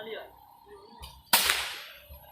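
A sharp, loud rifle shot cracks once at a 25-metre shooting competition range, fired prone, and rings out into a fading tail, with a softer thump just before it and quiet background murmur.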